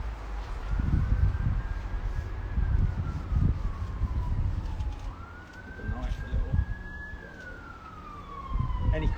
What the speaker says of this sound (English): I've got a siren going.